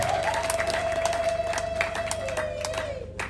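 Applause and a long, wavering high ululation from women at a Rwandan dowry and introduction ceremony, with steady clapping throughout.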